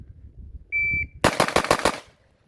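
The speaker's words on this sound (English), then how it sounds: "So we'll just shoot a few and see what our splits are." A shot timer beeps, then a Springfield Prodigy 9mm pistol fires a rapid string of about six loud, sharp shots in quick succession.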